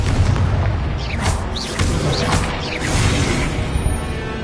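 A Confringo spell in Hogwarts Legacy explodes over and over in loud, booming blasts and crashes that run together into one dense, roaring wash of sound.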